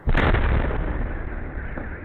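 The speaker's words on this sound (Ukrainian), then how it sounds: "с окна очень Большой взрыв слышен" A single heavy explosion booms suddenly, then rumbles and slowly fades, loud and muffled as if through a window.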